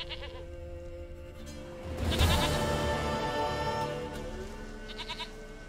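A goat in Witcher 3: The Wild Hunt bleats in a single loud, wavering cry mid-clip, close and clear over faint ambient game background, with a shorter fainter bleat near the end.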